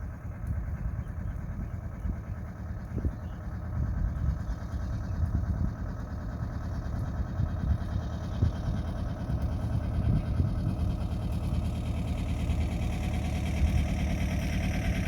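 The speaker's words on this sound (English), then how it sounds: "There's our engine and this is a diesel going past us." On a canal narrowboat, the boat's own engine idles quietly with a low rumble while a passing diesel boat's engine chugs by, its deeper knocking thuds rising and fading over about fifteen seconds.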